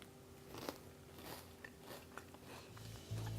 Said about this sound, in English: I gotta get myself a perfect bite of all the cream cheese, the cheese, onion